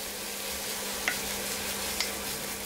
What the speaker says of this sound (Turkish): kıyma ve soğanları kavuracağım